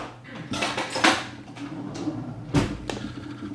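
A tablespoon is fetched from a kitchen drawer, metal cutlery clinking and clattering in several sharp bursts, close and fairly quiet.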